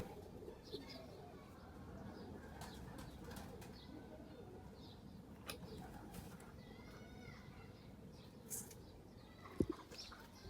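Soft coos of native country pigeons and occasional wing flaps against a faint background, with a few sharp clicks; quiet and fairly distant.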